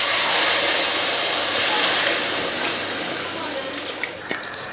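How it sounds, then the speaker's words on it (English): Hot water pours into a pot of chicken soup, a steady gushing splash that slowly fades over a few seconds, with a couple of small clinks near the end. "there's 4 cups of water, hot water."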